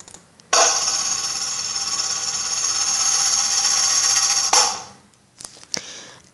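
A bell sound effect sample from a video editor's effects library rings out as a sustained bright shimmering tone for about four seconds, then cuts off, followed by a few faint short clicks.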